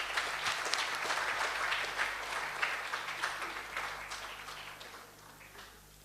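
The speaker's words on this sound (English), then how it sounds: "Please join me to felicitate all of them with a big round of applause." An audience at a Toastmasters event gives a round of applause, a dense wash of clapping that fades gradually over several seconds.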